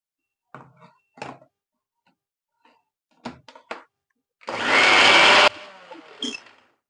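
Scattered clinks and knocks, then a loud, harsh mixer grinder whirs for about a second grinding cotton seeds with water before cutting off, followed by a few more clatters.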